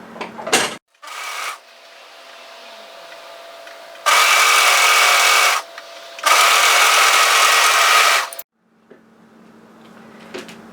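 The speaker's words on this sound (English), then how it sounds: "And just overlock serge those edges together." An overlocker serges the edges of sweater fabric in two loud sustained runs of close, buzzing stitching, separated by pauses with brief handling noises before and after.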